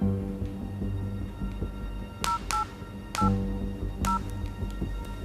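A telephone number is dialed as a run of short keypad tones in uneven bursts, close and clear over a low background hum, with no voices.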